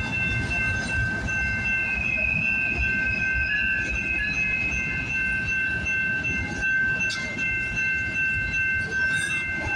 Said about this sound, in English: The symbol on this train is CPKC